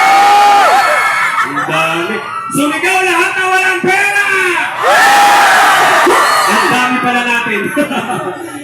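A large crowd at a Filipino live event shouts and yells together in loud, sustained bursts, with cheering and laughter mixed in and a few individual voices standing out near the front.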